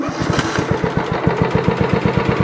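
A vehicle engine, just repaired after a starting fault, cranks and catches into a rapid, steady chugging idle, loud and close, with no talk.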